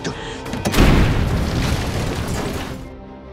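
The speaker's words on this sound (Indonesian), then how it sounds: "ia pun nekat membukanya hingga terjadilah ledakan." A loud, booming explosion in an action film bursts open and rumbles on for a few seconds before cutting off, with a voice faintly audible under it.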